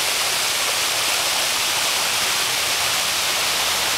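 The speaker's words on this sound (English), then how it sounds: "found another waterfall driving around." Rainforest waterfall roaring in a steady, dense wash of falling water, close and loud throughout with no voices.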